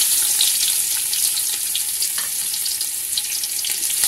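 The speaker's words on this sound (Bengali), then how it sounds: "পেঁয়াজগুলো আমি লালচে করে ভেজে নিয়েছি" Chopped onions frying in hot oil with cardamom, bay leaf and cinnamon in a pot, a steady close sizzle with faint stirring, no talk.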